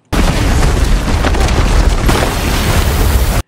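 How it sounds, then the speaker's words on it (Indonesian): Bombs detonate in a dramatic action series, setting off a landslide: a sudden heavy boom swells into a dense, sustained roar of blast and rumbling debris that cuts off abruptly, with no speech. "Riz menekan pemicu itu yang membuat semua bom langsung meledak."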